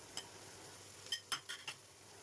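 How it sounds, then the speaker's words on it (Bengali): Prawns with onion, tomato and green chilli are stirred in a pan, with a few sharp metallic scrapes and clinks of the utensil against it over a faint, steady sizzle. "ভালো করে নেড়েচেড়ে নিচ্ছি।"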